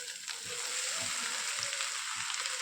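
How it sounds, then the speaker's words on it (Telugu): Boiled kasarakaya (Momordica cymbalaria) frying with onion in a tempered pan, a steady soft sizzle with a few evenly spaced low stirring thumps. "ఇప్పుడు మనము ఉడికించి పెట్టుకున్నటువంటి ఈ కాసరకాయల్ని వేసుకోవాలి"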